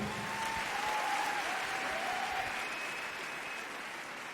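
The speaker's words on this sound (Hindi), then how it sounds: "प्लीज जोरदार ताली" Applause from an audience at a Secure Life business event, a steady wash of clapping that stays loud throughout, with a faint tonal whistle or feedback line drifting over it early on.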